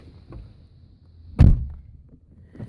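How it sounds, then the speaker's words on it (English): A 2012 Chevrolet Impala car door is shut once with a single solid thunk midway, standing out clearly against quiet surroundings. "and you'll close the door"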